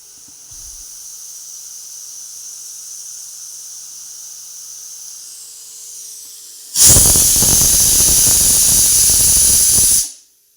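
A pressure cooker on the stove gives a soft steady hiss, then suddenly lets out a loud, close whistle blast of rushing steam for about three seconds before it cuts off.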